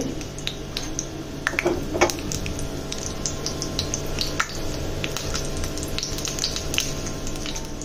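Mustard seeds and fenugreek sizzle and crackle in about one and a half spoons of hot oil in a pan, tempering for mor kuzhambu, a steady frying hiss dotted with quick sharp pops, close up.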